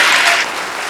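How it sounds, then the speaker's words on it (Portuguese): Loud congregational applause in a church, a brief dense burst of many hands clapping that eases down after a moment, heard alone without speech. "Dá uma salva de palmas ao Senhor."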